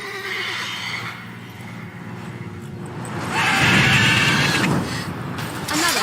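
A mare in The Witcher 3: Wild Hunt lets out a loud, shrill whinny midway, preceded by softer snorts and game ambience, with faint hoof clatter underneath.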